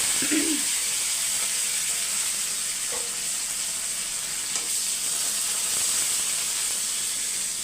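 Mustard seeds, cumin, green chilies and curry leaves sizzle in hot oil as a steady, close hiss and crackle, with a few faint clinks and no talk.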